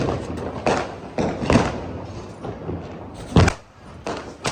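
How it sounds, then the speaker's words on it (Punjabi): Firecrackers go off on Diwali night in Hoshiarpur, scattered booming cracks of varying distance, one especially loud close blast near the end amid a hazy background. "ਹਰ ਤਰਫ ਪਟਾਕਿਆਂ ਦੀ ਆਵਾਜ਼ ਆ ਰਹੀ ਅੱਜ ਦੀਵਾਲੀ ਦੇ ਸ਼ੁਭ ਦਿਨ ਤੇ"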